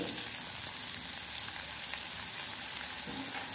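Chopped onion and carrot frying in a pan for hotel-style khara bath, a steady close sizzle with soft crackles that holds evenly throughout, no voices.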